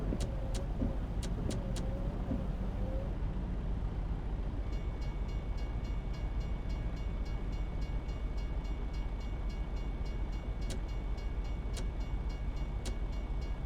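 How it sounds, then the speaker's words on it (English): Freightliner Cascadia truck in American Truck Simulator with its exhaust brake engaged, a steady low engine rumble and drone that runs throughout, with faint clicking ticks on top and no talk. "This is the exhaust brake, not the retarder."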